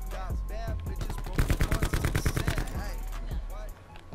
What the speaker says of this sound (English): I just had someone, so I just started shooting